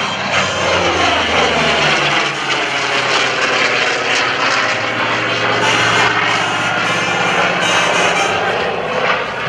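An F4U Corsair propeller engine roars loudly and steadily nearby at an airshow, a thick droning rumble with a throbbing, churning texture that never lets up.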